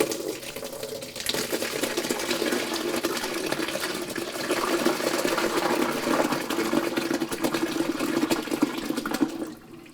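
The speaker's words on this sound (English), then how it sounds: "we're going to pour the curds into this lined colander" Mozzarella curds and whey are poured into a cheesecloth-lined colander, making a steady, continuous watery splashing and gushing that holds for most of the clip before stopping abruptly near the end.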